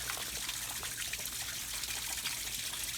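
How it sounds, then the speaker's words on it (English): Steady, continuous splashing of water off a small hydroelectric waterwheel, broad and hissy, with a constant low hum underneath throughout. "a lot of the water on the other side is spraying upwards"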